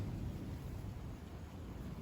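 Rain falls steadily over a garden under a darkened sky, with a dense low rumble of thunder or wind running continuously and fairly loud, no voices present.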